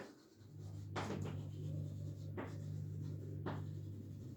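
Chalk or marker strokes from a teacher writing out a math solution, a few short scratchy marks spaced apart over a steady low electrical hum, with no talking.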